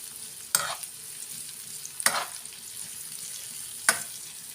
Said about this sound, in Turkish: Bunları bir güzelce yağda kavuruyoruz.